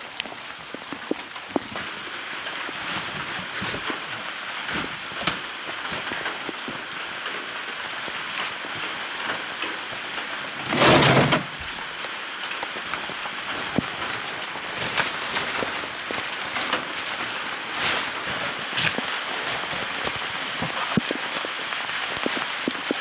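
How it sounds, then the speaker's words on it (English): Steady rain falls on surfaces beside a lake at an off-grid island homestead, a dense, even patter close by with scattered louder drips and one brief heavier splash midway, no voices. "All right, let it rain."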